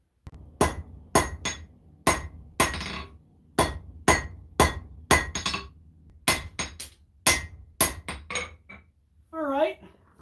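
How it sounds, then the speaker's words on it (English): Hammer blows forging a steel knife blade on an anvil, ringing metallic strikes in quick clusters of two or three with short pauses, loud and close, ending with a bright resonant ring. "I'm going to get back to it and reforge the shape to exactly what I'm looking for"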